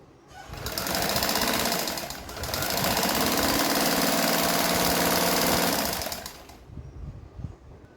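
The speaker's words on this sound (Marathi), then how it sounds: "कमरपट्टी लावताना आधी ही अशी पाव इंच इकडे या बाजूने शिवून घ्यायची" A sewing machine stitching the waistband onto a kautori blouse, running in two loud continuous bursts of rapid needle chatter with a brief slowdown between them, then stopping and leaving quiet handling sounds.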